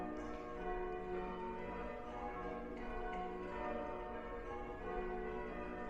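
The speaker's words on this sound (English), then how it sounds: "This bell ringing is far more complicated than I ever believed." Church bells at St Peter's in the village of Harrold, Bedfordshire, rung by a team of bell ringers, a dense, continuous wash of overlapping metallic tones and sustained ringing with no pause.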